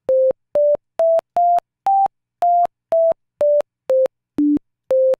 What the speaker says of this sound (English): There's the pop when I open up that gate when I push a key, and there's the pop when I release that